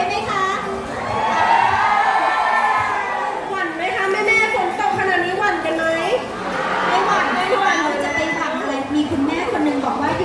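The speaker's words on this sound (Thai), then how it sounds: "ส่งเสียงเรียกกันหน่อยดีไหมล่ะ ดีไหมล่ะขอเสียงกรี๊ดหน่อย" Fans, many of them shrieking in high voices, scream and cheer at an outdoor temple celebration event, a sustained crowd roar with rising bursts, with a host talking over it.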